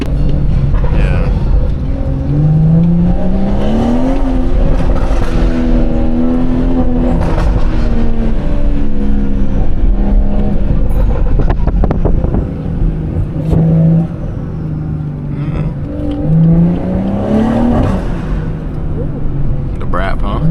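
A catless BMW 440i exhaust revs and rises in pitch in repeated swells during a calm night drive, droning steadily close by beneath ongoing conversation.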